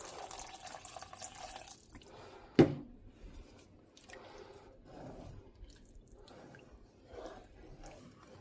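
Water is poured into a pot of cubillon, a sharp splash followed by soft dripping and trickling against quiet outdoor background noise.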